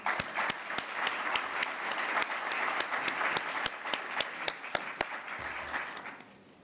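Audience at a student conference applauding to welcome a professor, a sustained burst of clapping with sharp individual claps standing out, fading toward the end.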